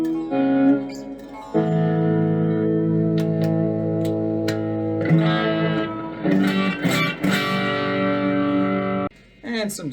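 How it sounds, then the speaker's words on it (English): Electric guitar on the full pickup played through heavy distortion, sustained crunchy chords ringing out with reverb and echo, a few shorter strummed bursts and pauses between. "And some distortion with the full pickup."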